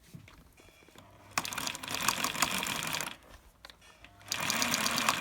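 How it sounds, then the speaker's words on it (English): Sewing machine stitching the fabric of a pencil case, heard close as two sustained runs of rapid mechanical stitching separated by a brief quieter pause, with faint handling noises. "So I've pinned this together, and I'm just going to sew it now."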